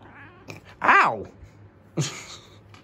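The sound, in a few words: cat meowing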